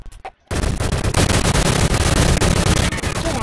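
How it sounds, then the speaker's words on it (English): Rapid, loud gunfire from the Shell Shockers video game bursts in after a brief quiet moment and hammers on almost without pause until the end. "I'm gonna reload because this gun shoots fast and I'm gonna run out of bullets very soon"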